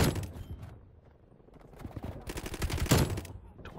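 A Galil rifle fires in Black Ops Cold War with dense, loud bursts of rapid automatic gunfire. A short lull is followed by heavier sustained firing toward the end.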